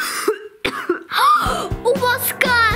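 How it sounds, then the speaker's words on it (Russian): A few sharp coughs from a child, mixed with brief vocal sounds and throat noises, close and fairly loud. "У вас кашель!"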